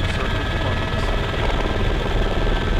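A helicopter in the military game Arma 3 drones with a steady, heavy rotor and engine rumble, continuous and fairly loud with no voices over it.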